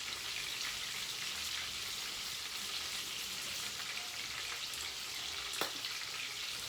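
Water running from a tap over an orange being rinsed, a steady hiss of flowing water with faint splashes and one brief knock near the end, no voices.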